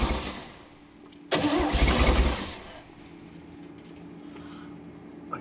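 An abandoned 1965 Chevrolet Bel Air that sat for 35 years starts up: a short loud cranking catch, then settles into a quieter rough idle, heard close with no talking.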